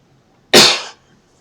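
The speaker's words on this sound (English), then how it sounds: "I should get that cough checked." A single sharp cough from a person, loud and close, one abrupt burst that quickly fades into silence.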